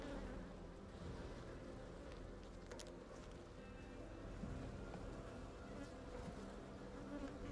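Honeybees buzz in a dense, steady drone from inside an open hive during an inspection, the swarm close and continuous throughout with faint handling noises and no talk.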